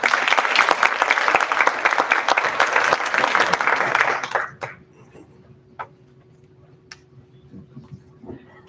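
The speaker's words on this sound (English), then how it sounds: "Give another round of applause for our academic departments" Loud, dense clapping from a crowd at a counselor appreciation breakfast that fades out after about four seconds, leaving a quiet room with a few scattered knocks.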